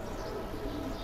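Pigeons coo at a pigeon farm in Bangladesh, a dense, steady layer of soft, throaty cooing from many birds at close range, without pauses.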